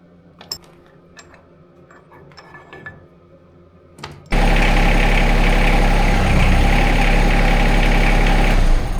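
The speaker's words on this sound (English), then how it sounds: "I was able to sort of back the tractor away because it wasn't connected any longer" A Yanmar SA425 compact tractor engine starts up after a few quiet clanks and then idles loudly and steadily close by, a constant low rumble with no talking.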